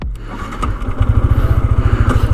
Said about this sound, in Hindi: वो कुछ इस तरह से क्लच को दबाए रहते हैं और एक्सीलरेटर इस तरह से देते रहते हैं